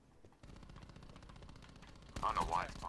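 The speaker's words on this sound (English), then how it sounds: "Behind me using a fucking LMG with rapid fire." Rapid light machine gun fire in a video game rattles in a fast, continuous burst, close and fairly loud, with a voice talking over the end.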